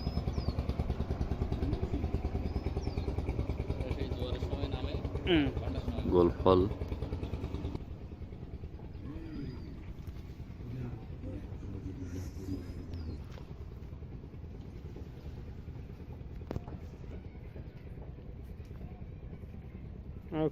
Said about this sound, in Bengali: ট্রলার যাচ্ছে।